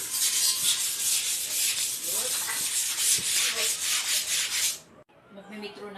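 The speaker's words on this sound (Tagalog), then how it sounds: "Try, magliliha tayo. Liha." Wood being sanded by hand with sandpaper: close, steady back-and-forth rasping strokes in a continuous rhythm for several seconds, then the rubbing stops and a quieter tail follows.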